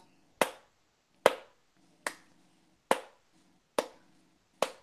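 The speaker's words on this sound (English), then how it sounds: "Oh, you're clapping, okay?" A single person claps hands six times at an even, slow pace, each clap a sharp, close, echoing crack separated by quiet, with a faint murmur between claps.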